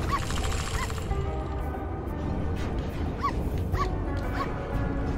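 A small dog in the video game Guacamelee 2 yips and whimpers in a few short, high, rhythmic cries over a dense bed of game music and mechanical noise, with no talk over it.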